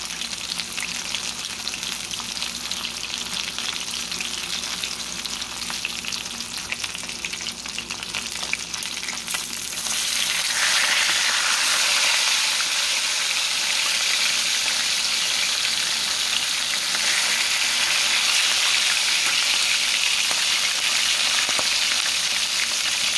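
Chicken pieces frying in a pan of hot oil, giving a loud continuous sizzle that swells noticeably halfway through, close-up with no talking.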